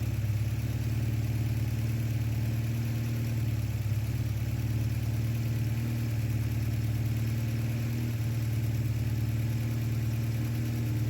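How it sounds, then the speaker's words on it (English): A carburetted VW Golf Mk1 engine idles steadily nearby, a low continuous hum with a slight lift in pitch as the idle speed is raised, no talking. "I'm going to increase the idle for you."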